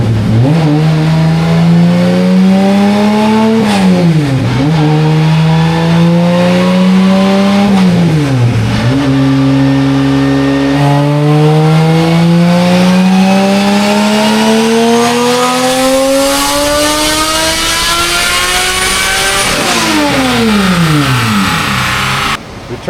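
Toyota MR2 fitted with a 1000hp minivan engine revving hard and pulling through gears, a loud close-up engine roar rising in pitch with several sharp shift drops, heard from inside the car.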